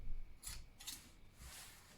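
Fabric scissors snip notches into a fabric edge while sewing a ruched ruffled neckline, making three crisp close cutting sounds in quick succession, quiet and alone.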